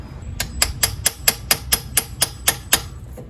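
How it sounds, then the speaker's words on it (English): A Honda CR-V dipstick tube being tapped into place, about ten sharp metallic taps in a steady rhythm, close and distinct over a low background hum. "Maybe even give it a couple of taps."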